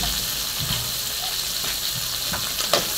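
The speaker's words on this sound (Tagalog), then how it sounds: "Gisa-gisa lang natin." Onion, ginger and chili sautéing in hot chili oil, a steady close sizzle with faint stirring scrapes and small pops throughout, no voices.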